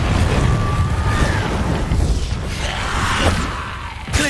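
Confringo explosive spell blasts from the video game Hogwarts Legacy: rumbling booms and whooshing bursts over a dense, continuous game soundscape, with a final sharp hit near the end.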